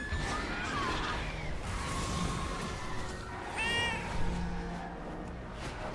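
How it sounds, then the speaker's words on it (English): A cat meows inside the World of Warcraft video game. Several short, clear mews stand out over a steady bed of game background sound, with one brighter, higher meow near the middle of the clip. "I heard a cat."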